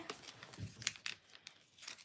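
Plastic packaging bag crinkling while an order is wrapped, a few soft, brief rustles and crunches, fairly quiet and close, with no talk over it.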